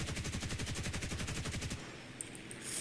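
Rapid aircraft machine gun fire in the War Thunder combat flight game, a loud, steady stream of shots for under two seconds before cutting off, then quieter engine and game sounds.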